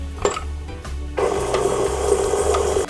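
A stand mixer churns tempered butter with brown sugar in its bowl, starting up partway through with a steady whirring and scraping hum after a quieter, rumbling opening.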